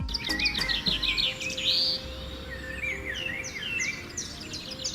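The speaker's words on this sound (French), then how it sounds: "le chant des oiseaux acclamé par une végétation omniprésente" Birds sing among dense vegetation at Eco Park, a village in the capital, with bright overlapping chirps and trilling phrases, some close and some farther off, over a steady low hum of background ambience.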